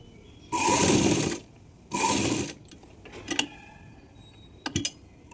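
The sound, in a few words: sewing machine stitching a baby frock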